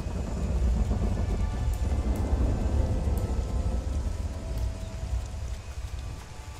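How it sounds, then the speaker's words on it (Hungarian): Rain and thunder in the video game The Isle: a dense, continuous rainfall hiss over a deep rolling thunder rumble, loud and enveloping throughout. "Láttátok, hogy villámlott?"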